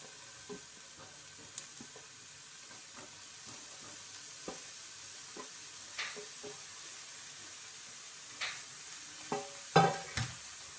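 Paneer cubes semi-frying on a tawa give a soft, steady sizzle at low level, broken by occasional light scrapes and taps of a spatula, with a louder clatter near the end.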